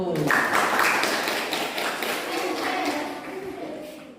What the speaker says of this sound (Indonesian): Tepuk tangan untuk satu